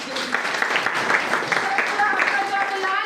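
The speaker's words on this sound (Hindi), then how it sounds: "चलिए जोरदार ताली" An audience at a Hindi motivational business seminar breaks into loud, sustained applause, a dense wash of clapping lasting a few seconds with voices mixed in.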